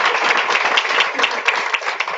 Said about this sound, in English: big round of applause for my assistant